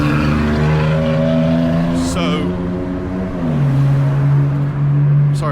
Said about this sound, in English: I lost my train of thought with that loud car